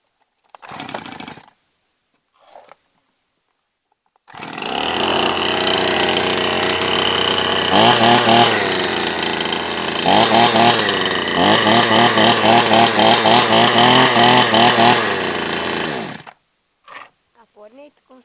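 A Chinese-made chainsaw is pull-started after a couple of short coughs, then its small two-stroke engine roars loud and close for about twelve seconds, revving up and down with a rattling buzz before cutting off.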